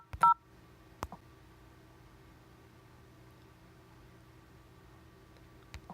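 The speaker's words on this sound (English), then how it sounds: "So I can actually call, let's test that out. I can actually call one of my extensions. You should hear it dial." An internal phone app dials an office extension: a short, sharp dialing beep near the start, then a faint steady line hum with a couple of soft clicks.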